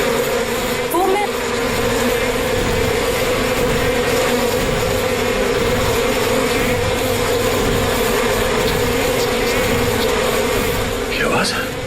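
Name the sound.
honeybees buzzing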